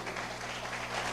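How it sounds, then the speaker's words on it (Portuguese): A church congregation applauding during a worship service: a short, dense burst of steady clapping from many hands, fairly loud and even throughout. "Vamos aplaudir ao Senhor."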